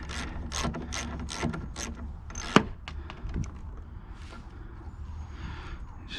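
A ratchet clicks in quick rapid bursts while unscrewing a door panel fastener on a 1990 third-generation Camaro, close and crisp, followed by a sharp metallic snap and a few scattered clicks and handling noises.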